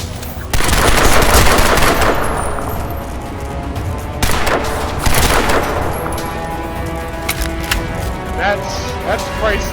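Gunfire in a Crysis 2 battle: bursts of rapid automatic fire and heavy booming shots ring out loudly, with echoing decays and scattered smaller shots between volleys, under a voice talking.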